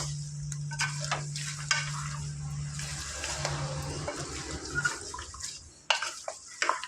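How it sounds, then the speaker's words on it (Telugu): Mutton is stir-fried in a pan, giving a constant watery sizzle and bubbling with scraping stirs and occasional clanks of a spoon, close by and without talk. "దీంట్లో వాటర్ అంతా ఇనిగిపోయేంత వరకు ఈ మటన్ని చక్కగా ఫ్రై చేసుకోవాలి"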